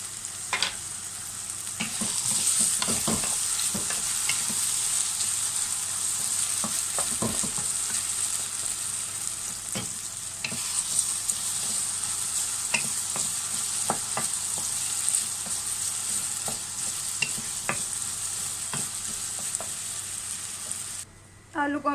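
Potatoes fry in a pan with a continuous bright sizzle that runs loud and steady for a long stretch, with scattered taps and stirring clicks over it.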